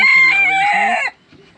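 A hen that has just hatched chicks after a 21-day sitting gives one loud, drawn-out, close call lasting about a second, followed by near-quiet with only faint soft sounds.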